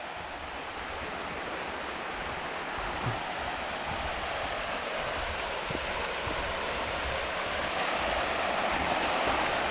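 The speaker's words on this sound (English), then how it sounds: "So I'm always down here by the river." Steady broadband rush of a river flowing past a warm-weather campsite, continuous and fairly loud, filling the whole stretch with no talk.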